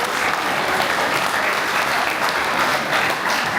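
Audience applause at a fundraising dinner for Wollongong's Vietnamese community, a dense steady wash of many hands clapping at a constant level throughout, fairly close and with no talk over it.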